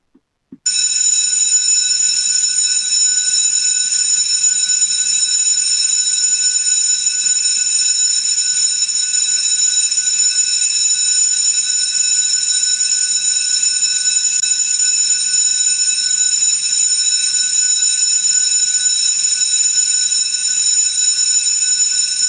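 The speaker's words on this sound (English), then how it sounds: "Please ring the bells." Division bells ring in a council chamber at a Brisbane City Council meeting, one loud, steady electric ringing that holds unbroken for over twenty seconds with no talk over it.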